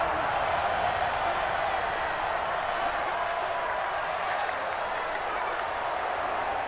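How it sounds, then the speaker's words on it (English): A simulated stadium crowd in the video game Madden NFL 20 roars steadily during a Bills vs Lions game ahead of a big third down, a dense, constant wall of cheering with no breaks. "the crowd getting into it as we come up on a big 3rd down"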